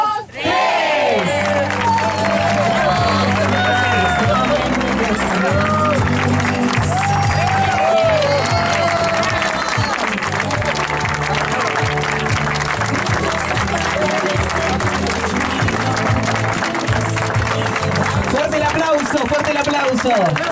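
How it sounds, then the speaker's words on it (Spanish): A crowd applauds and cheers right after the ribbon is cut at the inauguration of a new boulevard in Zapala, sustained clapping over loud amplified voices and music-like tones throughout. "¡Fuerte el aplauso!"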